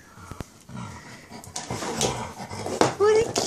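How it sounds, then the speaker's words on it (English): A puppy pants and gives soft whimpers close by, with rustling movement and someone talking over it. "What a cute puppy."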